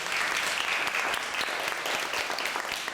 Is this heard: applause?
yes